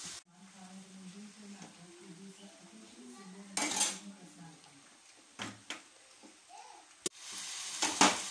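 A mixture of tapioca, egg, onion and green chilli is stirred in a pan: a voice talks at first, then a few sharp metal scrapes and clatters come over a faint sizzle.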